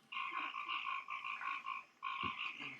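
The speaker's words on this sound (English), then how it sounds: "Freaking crickets murdering themselves for being in this game." Cricket ambience from the 3DO game RockMan & Ratmus: a looping, evenly pulsed chirping trill in long bursts with a short gap between them, fairly faint and steady, with no voices.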